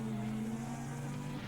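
Touring car engine from the 1988 BTCC round at Donington Park holding a steady, droning note as revs build, loud and continuous with no talk.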